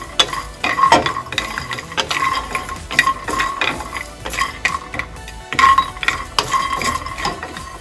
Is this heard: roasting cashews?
yes